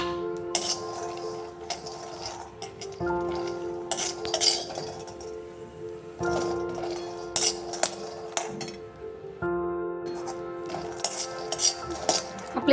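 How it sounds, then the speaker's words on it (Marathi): A spoon stirs peanuts roasting in a hot kadhai, making steady scraping with frequent metallic clinks and rattles at close range, repeating throughout with no talking. "शेंगदाणे छान भाजून घेणार आहोत."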